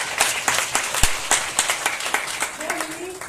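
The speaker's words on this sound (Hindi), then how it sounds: "जोरदार तालियां मेरी proud upline doctor Surekha Bhargava." An office audience claps for a woman being introduced, a modest spatter of hands, distinct individual claps at moderate loudness, with a voice talking over the end.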